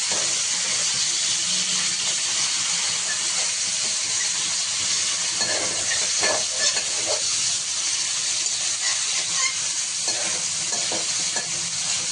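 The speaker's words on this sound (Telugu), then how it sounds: "ఇలా ఒక 10 నిమిషాలు నూనెలో బాగా వేగనిద్దాము." Chicken frying in hot oil with whole spices for a biryani-style lunch dish, a loud, dense, continuous sizzle with crackling bursts and occasional scraping as it is stirred.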